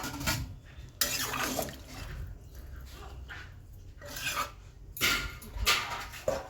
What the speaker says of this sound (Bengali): লবণ দিয়ে ঢাকা দিয়ে দিচ্ছি